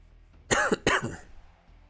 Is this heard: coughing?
yes